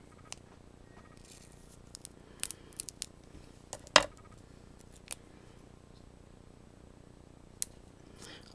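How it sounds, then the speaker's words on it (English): Scissors snip at close range in a quiet room: a few sparse, sharp clicks and cuts scattered over several seconds, with one louder snip near the middle. "Just reach over and get my scissors."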